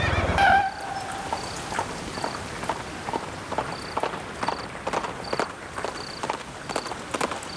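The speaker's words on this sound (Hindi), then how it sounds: "सुनाई दे रही है घोड़े की चहल पहल" A horse's hooves clip-clop in a steady walking rhythm on hard ground, moderately close, with insects chirping faintly in the background.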